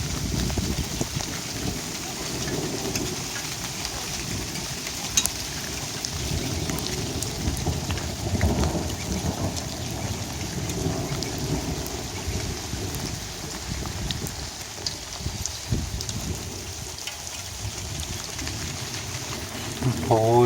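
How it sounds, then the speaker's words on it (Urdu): Steady rain pours outdoors with rumbles of thunder rolling beneath it, a continuous loud wash of falling water lasting throughout. "اور بارش بھی ہو رہی ہے۔"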